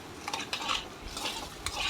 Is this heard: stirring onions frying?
yes